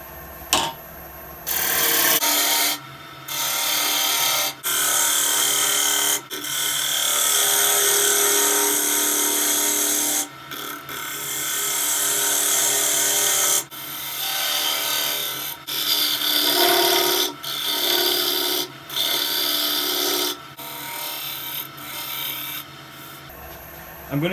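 A wood lathe spins up and turns a wooden chip and dip platter, the tool scraping and rasping in loud sustained bursts separated by brief pauses, close and continuous through most of the stretch.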